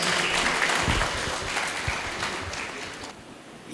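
Audience clapping after a Tamil poetry recital at an interfaith event marking Gandhi's birthday, a brief dense patter of hands that is loud at first and thins toward the end, heard without any talk.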